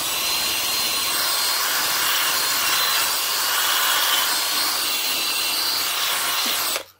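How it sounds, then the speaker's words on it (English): A fine wire brush scrubs rust off a trailer wheel rim, a loud continuous harsh scratching rasp close by that holds steady for about seven seconds and then stops abruptly. "Come with a fine wire brush."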